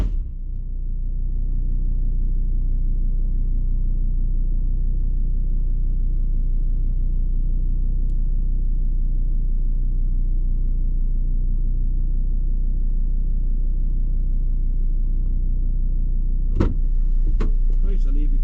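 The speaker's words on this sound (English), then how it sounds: "I'm going to jump in the car now, put my seatbelt on and start driving out of here" A car idles and drives with a steady low rumble and engine hum from inside the cabin. Near the end a few sharp knocks and rattles break through.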